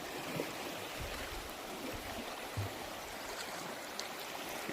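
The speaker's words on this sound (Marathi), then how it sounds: "पाहू शकता हे पाणी आलेलं आहे" Floodwater rushes under a bridge in Parbhani district, a steady, broad wash of flowing water with no voices, close and continuous throughout.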